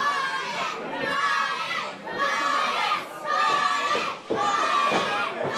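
A live pro wrestling crowd cheers loudly in rising and falling waves, shouting and chanting in roughly second-long surges that fill the arena.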